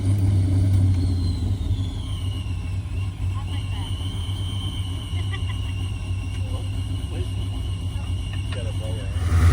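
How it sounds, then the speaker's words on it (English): A four-cylinder car engine rumbles at a cruise-in, a low steady idle with a brief rev, heard nearby under people talking and background crowd noise. "That is so cool for a 4-cylinder. That sounds good for a 4-cylinder."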